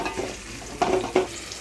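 Onions, green chillies and curry leaves fry in a pan: a close, continuous sizzle with two quick scraping stirs of the spoon, and no voices.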